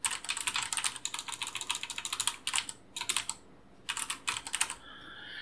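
Rapid, close keystrokes on a computer keyboard typing out a title, steady bursts of crisp clicks broken by short pauses, with no voices.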